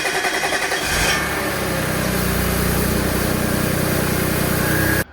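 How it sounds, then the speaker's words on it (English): An Audi S4 engine with an upgraded fuel pump cold starts, a short cranking burst quickly catching into a loud, steady, buzzy idle heard close up, then cutting off abruptly at the end. "I'm gonna show you a clip of the cold start that I'm gonna do tomorrow morning"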